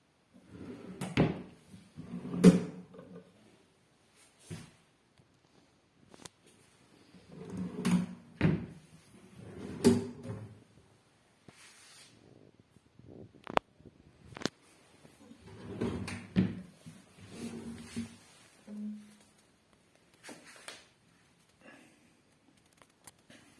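Drawers of a dresser slide open and shut on ordinary telescopic runners, several distinct glides and soft thuds spaced out over a quiet room, close and clear.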